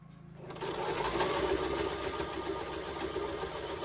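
A sewing machine stitching a pant hem starts up after a moment and runs at a steady, rapid mechanical whirr with a faint rhythmic knock, close and alone.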